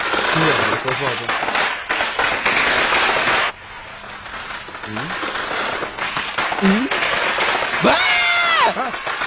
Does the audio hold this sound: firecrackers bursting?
yes